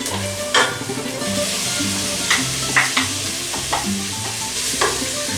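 Flaked, deboned cod fries in caramelized onions and olive oil with a continuous close sizzle, broken by several scraping stirs and clattering utensil knocks.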